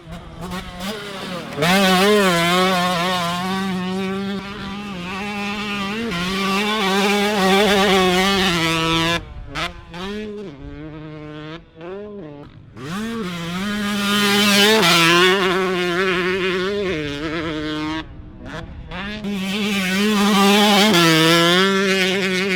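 Two-stroke Yamaha YZ125 and YZ250 dirt bikes are ridden nearby, their loud buzzing engines revving continuously with the pitch rising and falling as they accelerate and ease off.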